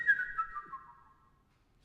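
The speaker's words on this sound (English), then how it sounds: "or the wind whistles." Wind whistling: a thin, tonal high whistle that starts fairly loud and slowly glides downward as it fades away, alone and faint.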